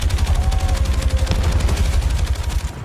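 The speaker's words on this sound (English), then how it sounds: "they're the masters of the machine gun" Rapid machine gun fire from the video game Battlefield 6, a dense, steady rattle of rhythmic bursts that stays loud and close for the whole stretch with no talking.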